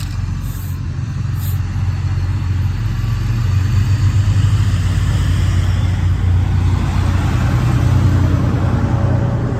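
A truck passes by with a steady, broad engine rumble that swells slightly as it nears, with no talking.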